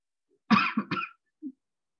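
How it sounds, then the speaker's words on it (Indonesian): A single close cough in two or three quick bursts, followed by a brief soft throat sound, then silence. "jadi agak batuk-batuk dikit"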